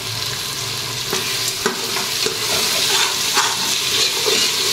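Vegetable rice with tomatoes sizzles and fries in a pressure cooker, with a steady hiss under repeated scraping and clinking stirring strokes. A person talks briefly over the cooking.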